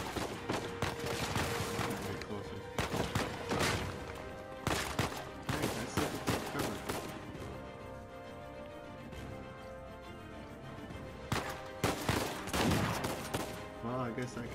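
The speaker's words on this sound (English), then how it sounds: "Who's fucking shooting me now?" Scattered gunshots and bursts of fire aimed at the player in Uncharted 4, coming in loud clusters with quieter gaps between, layered over game ambience and occasional voices.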